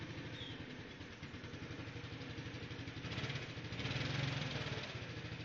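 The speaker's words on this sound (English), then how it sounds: "push my little start button. And you can see it purrs right to life" A 2001 Honda Helix scooter engine idles cold just after starting, with a steady, close, low putter that rises slightly in the middle, alone with no talk.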